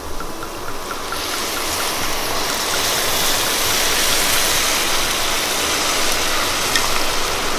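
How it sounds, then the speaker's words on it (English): Wine pours in a steady, continuous splashing stream into a pot of onion soup resting on the fryer, close and fairly loud, rising slightly and holding without a break and no voices. "And now I'm gonna add a bit of wine, and we're gonna let it sit on the fryer. And we're gonna add wine until I will say stop."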